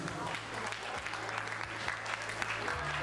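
Guests at a wedding toast clap together in a sustained burst of applause, steady and fairly far, with a low hum running underneath.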